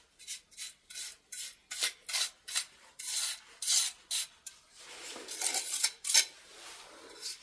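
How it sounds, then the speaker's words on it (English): A paintbrush feathers off setting lime mortar pointing on a cottage wall, giving a run of short, dry brushing scrapes in quick repeated strokes, close and alone. "Don't forget we can feather it off with a paintbrush"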